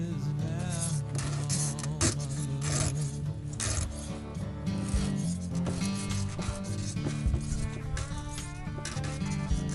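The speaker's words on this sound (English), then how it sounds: "I could grab a file and file the inside of this radius out" Hand file rasping out the inside radius of a metal part while fitting a lift pump on an old VW diesel, heard as steady, loud, close back-and-forth strokes in a continuous rhythm with no talking.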